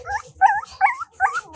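Several young puppies whimpering and yipping in four short, high-pitched bursts, close by and loud, with no talking.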